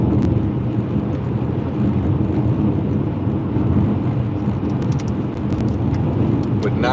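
Inside a car on the bumpy westbound I-40 highway near Albuquerque, a steady loud low road rumble and engine drone continue throughout with no clear talk.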